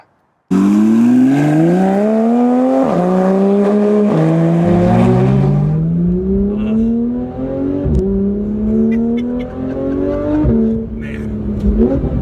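A Porsche 911 GT3 RS accelerates hard on the road, its engine revving loud and climbing through gears with sharp shift breaks, then settling into a steadier, quieter cruise.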